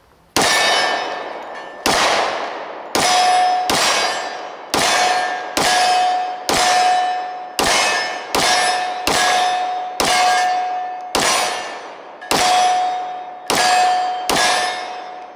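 Springfield Armory XDm Elite 10mm pistol fired at steel targets from 15 yards, about fifteen sharp shots at an uneven pace, each followed by a ringing metallic clang and a short decay, loud and free of talk.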